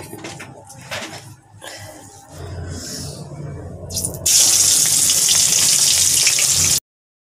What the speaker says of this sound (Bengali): তো এদিকে মাছটা ভাজা হোক